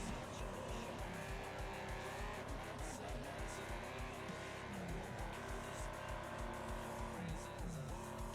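A race car in a racing video game spins out, with a steady engine drone and tire squeal running throughout under a commentator's voice.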